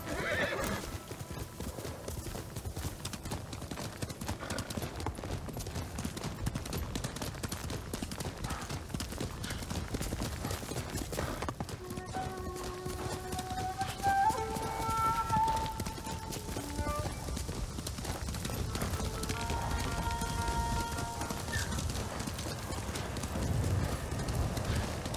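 Horse galloping in the Ghost of Tsushima video game: steady, close clip-clop hoofbeats run the whole way, with a whinny and soft game music or tones drifting in over the second half.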